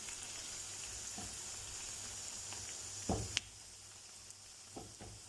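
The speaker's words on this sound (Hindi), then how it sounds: "ये देखें, ये हमारे प्याज ब्राउन हो रहे हैं।" Sliced onions browning in a pan for maghaz bhuna give off a faint, steady sizzle and crackle, broken by a few soft clicks and knocks, with no voice.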